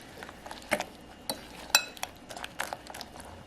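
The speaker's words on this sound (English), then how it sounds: "we're gonna add our scallions or green onions. Just gonna mix that all together." A utensil stirring kimchi pancake batter with seafood and scallions in a bowl, making light scattered clinks and scrapes against the dish, close and fairly quiet, with no talking.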